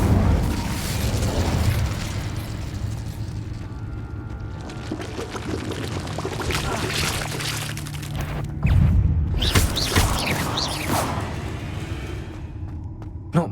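An Incendio fire spell in Hogwarts Legacy combat against a giant spider: a sustained roaring, whooshing blast with rumbling bursts and crackling flares, loud and near, surging again partway through before trailing off.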